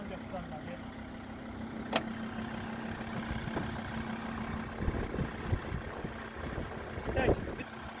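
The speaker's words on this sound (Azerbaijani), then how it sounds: "Motor saat kimi işləyir." A Mercedes W211 engine idles at a steady low hum with a faint drone, joined by a few brief clicks and knocks, while a person talks over it.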